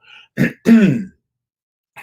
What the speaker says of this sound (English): I had to clear my throat on that one